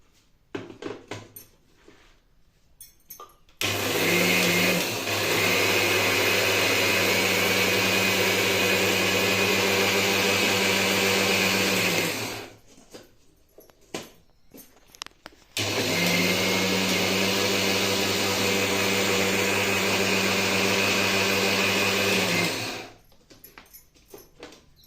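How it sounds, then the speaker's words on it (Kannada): A kitchen mixer grinder grinds areca nut with betel leaf and a little slaked lime in two long, loud motor runs of about eight seconds each, separated by a short quiet pause. "ಇದನ್ನು ಮಿಕ್ಸಿಗೆ ಹಾಕೊಂಡ್ಬಂದ್ಬಿಡ್ತೇನೆ."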